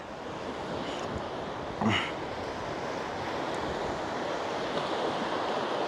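Constant roar of strong wind and surf at the Jaffna shore, a broad steady rush with a brief gust or thump partway through.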